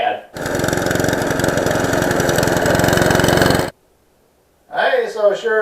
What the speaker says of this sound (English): Something's wrong with that lawnmower, Dad.